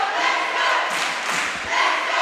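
Loud, dense crowd noise fills an indoor under-15 girls' basketball game, a sustained roar of many voices rising and falling in swells.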